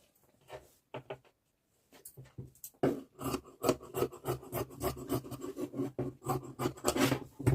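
Scissors cutting blouse fabric for a broad-neck, deep-back blouse, heard as a quick run of close, crisp snips and rasping slides through cloth, brief and sparse at first, then dense and steady with no voices.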